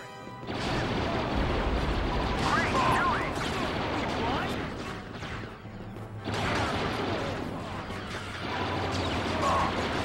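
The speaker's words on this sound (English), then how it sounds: "Maybe I throw grenades?" Grenade explosions and combat in Star Wars: Battlefront 2 (2005), heavy booms and crashing blasts in two loud bursts with a brief lull between, over a constant low battle rumble.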